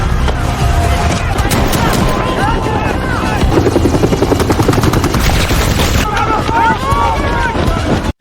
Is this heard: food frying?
no